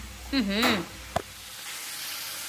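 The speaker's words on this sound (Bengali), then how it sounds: "দিদি হলো আলু ভাজি আর ডিম দিদি ভাজি করতেছে, আমরা ডিম ভাজি করতেছি" Potatoes and eggs frying in a pan give a faint, steady sizzling hiss that continues after a brief spoken voice and a single sharp click.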